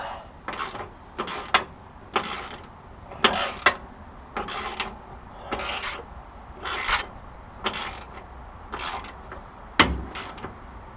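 Socket ratchet tightening a bolt on the steering linkage of a 1972 Oldsmobile Cutlass, heard as about ten short, close clicking bursts in an uneven rhythm with quiet garage noise between them.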